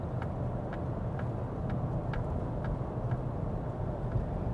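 A 2014 Nissan Frontier engine idles with a steady low rumble and a faint, regular ticking about twice a second, with no voices.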